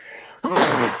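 A single sharp sneeze bursting out close by after a brief quiet breath.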